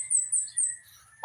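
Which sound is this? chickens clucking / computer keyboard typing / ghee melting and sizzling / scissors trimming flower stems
chickens clucking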